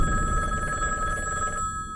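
A telephone rings with a steady electronic bell tone that holds for over a second and a half, then stops. The sound is close and clear, with no talking over it.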